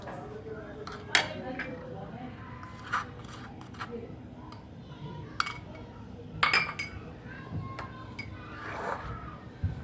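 A spoon mixes milk and milk powder into a batter in a bowl for rasmalai, giving soft scraping with scattered light clinks against the bowl, close by.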